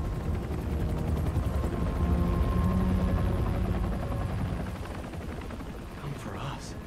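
A helicopter in the video game Marvel's Spider-Man 2 gives a loud, steady rotor drone that fades slightly toward the end, with a voice speaking briefly near the close.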